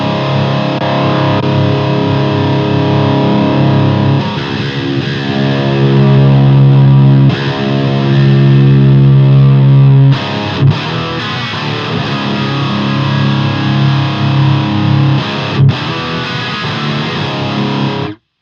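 Heavily distorted electric guitar through an ENGL amplifier with its appreciate button engaged, played loud and continuous with sustained chords and a few abrupt changes, no talking.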